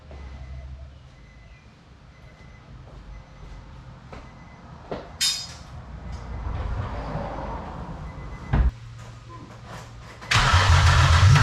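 A project car's engine cranks and turns over, then catches and roars loudly into a rough running idle near the end, with a few clanks before it starts.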